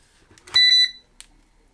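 A single loud electronic beep burst from an electric kettle, a quick pair of high tones, framed by soft clicks and a faint tap afterward.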